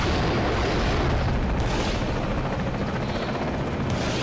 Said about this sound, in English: hitting it with some missiles there